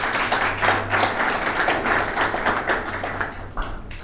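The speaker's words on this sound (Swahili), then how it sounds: "naomba tupige makofi makubwa." An audience at a talk on Imam Khomeini applauds, a dense patter of clapping hands that holds steady for several seconds at moderate loudness.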